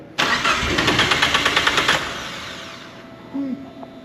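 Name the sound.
Deep Orange 3 car engine cranking and starting on new fuel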